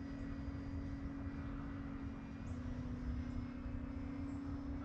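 An E-flite Night Timber X radio-controlled airplane drones steadily in the dark as it comes in to land, a constant even motor hum that holds for the whole stretch without a break.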